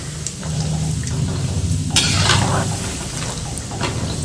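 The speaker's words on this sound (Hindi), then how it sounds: "सबसे पहले हम काजू को फ्राई कर लेंगे और ये खरबूजे के बीज हैं, इसको कर लेंगे।" Cashews and melon seeds fry in hot oil for Agra-style dal moth namkeen, giving a steady, close sizzle with a few light clinks of a stirring utensil against the pan.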